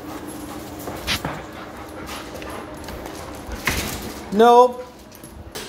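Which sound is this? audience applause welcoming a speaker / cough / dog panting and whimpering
dog panting and whimpering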